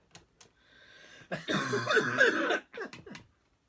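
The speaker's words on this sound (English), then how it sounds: "I've already coughed twice on mic." A single person coughs once, a rough hacking burst, with quiet breaths and small throat sounds just before and after.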